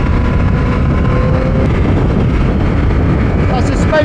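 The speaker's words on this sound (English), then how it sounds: "this one sounds just as nice with the Ergonomics exhaust once you get into them" A 2024 Yamaha MT-09 or XSR900 GP motorcycle with an aftermarket exhaust revving high while riding, a loud continuous engine roar mixed with wind rush, with a rider talking over it.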